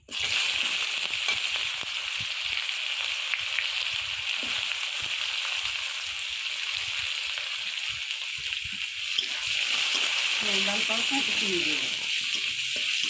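Cumin and chopped onion sizzle steadily in hot oil in a pan, a continuous loud hiss with brief clatters of stirring; a voice speaks near the end.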